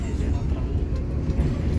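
A Damri intercity bus drives off the ferry at Bakauheni port, its engine a steady, loud low rumble throughout with no break.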